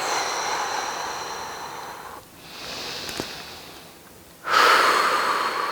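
A long exhale during a basic relaxation yoga session comes as a steady breathy rush that fades into a quieter stretch of breath, then returns loudly, close to the microphone.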